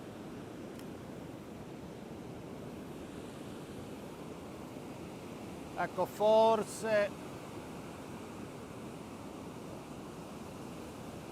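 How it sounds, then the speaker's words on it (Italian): Rough sea waves break on a rocky coast at sunset, a steady broad wash of surf that runs throughout, with one brief spoken word midway. "Il mare è effettivamente molto mosso."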